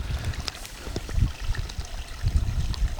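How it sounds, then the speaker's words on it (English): A stream flows nearby outdoors, a steady low rushing and gurgling of water with small splashes, fairly quiet and continuous without talk. "I hope you can hear that wonderful stream behind me."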